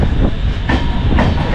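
Train carriages roll into Chakulia Junction on a rainy night, the Howrah–Ranchi sleeper train heard from inside as a loud, close rumble. Regular clickety-clack wheel beats sound roughly every half second, with no voices.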